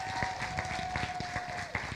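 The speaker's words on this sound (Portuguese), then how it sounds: "Uma salva de palmas para eles." An audience at a conference event gives a round of applause, steady mid-level clapping running throughout while a faint sustained tone hums beneath it.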